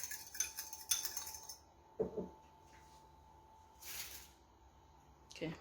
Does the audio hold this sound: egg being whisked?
yes